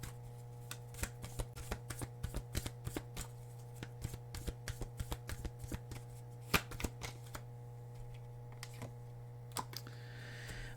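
Playing cards for a dark karmic tarot-style reading are handled and shuffled in quick, irregular flicks and taps. A low steady hum runs underneath throughout, and no one speaks.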